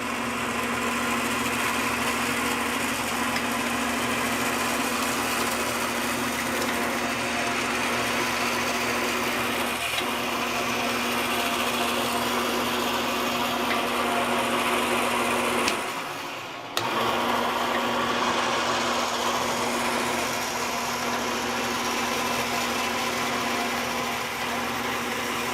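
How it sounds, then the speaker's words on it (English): A winch runs with a steady, close mechanical hum that drones for over twenty seconds, broken by a single brief dip partway through. "I'm going to run the winch"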